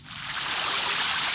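Water is poured in a steady splashing stream, rising quickly in loudness and holding as a bright continuous rush.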